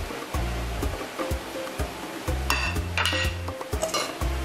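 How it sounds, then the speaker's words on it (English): Cassava cake batter with grated cheese is stirred in a bowl, giving repeated soft scraping and knocking strokes against the sides in a steady uneven rhythm, close and clear, with no voices. "just mix all together."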